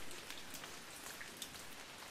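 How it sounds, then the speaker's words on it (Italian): Steady rain falls on a surface at night, a soft continuous hiss of drops with occasional slightly sharper taps and no voices. "La pioggia mi parla piano."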